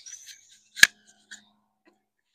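A single sharp snip as a plastic tap pipe is cut to length inside a fitting box, one crisp close cut standing alone with a faint click after.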